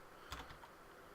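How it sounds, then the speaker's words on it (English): A few soft keystrokes on a computer keyboard, faint and close, a brief cluster of taps in an otherwise quiet moment. "Just trying to see how I'm typing here."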